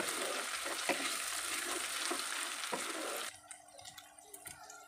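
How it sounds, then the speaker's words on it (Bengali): Ginger paste sautéed with onion and garlic in a pan, a dense steady sizzle with occasional stirring clinks, then a sudden drop to quieter faint spattering near the end. "এবার আমি এর মধ্যে দিয়ে দিচ্ছি 1 টেবিল চামচের মতো আদা বাটাটা দিয়ে খুব ভালো করে কিন্তু একটু কষিয়ে নিতে হবে প্রায় 1 মিনিটের মতো"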